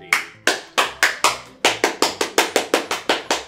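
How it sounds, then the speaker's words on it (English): Sharp hand claps, about fourteen in all, starting slow and irregular then quickening into a steady, even rhythm, close and loud. "you gotta applaud too."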